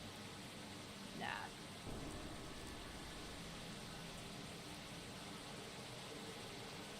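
Steady black rain pours in the Sally Face video game, a constant broadband hiss that fills the scene without break, with a brief chirpy tone near the start and no voices.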